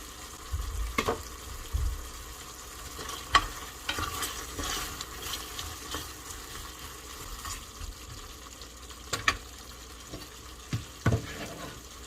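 Sliced onions are stir-fried with dakgalbi chicken in a pan, giving a steady low sizzle with scattered scraping and stirring clicks, close and fairly quiet.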